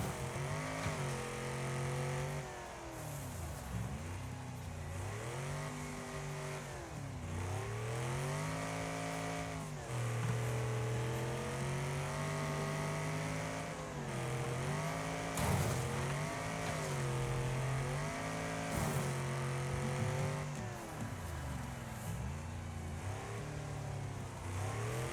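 Engines in a Wreckfest race on PS5, a supervan against a big rig, rev and shift gears continuously at close range, rising and falling in pitch as they accelerate and brake.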